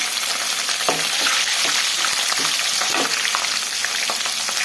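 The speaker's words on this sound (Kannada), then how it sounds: "ಎಲ್ಲ ಸೇರಿ ಈ ಥರ ಫ್ರೈ ಮಾಡ್ಕೊಳ್ಳೋಣ. ಬ್ರೌನ್ ಕಲರ್ ಆಗೋವರೆಗೂ ಫ್ರೈ ಮಾಡ್ಕೊಬೇಕು" Onions, curry leaves and green chillies fry in hot oil for uppittu, a steady, loud sizzle running throughout with occasional scraping stirs, no voices.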